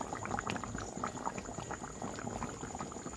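A meat curry, chicken in spiced gravy, bubbles steadily in a pot, with a dense, continuous crackle of boiling liquid and small pops, close and fairly quiet, no voices.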